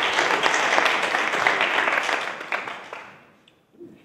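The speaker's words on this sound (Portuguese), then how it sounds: "Senhoras e senhores, por um lado, um bom aplauso para Chocolate em Pó." An audience at a comedy talk show claps in a dense, full burst of applause that holds steady, then fades out over the last second, with a faint voice at the very end.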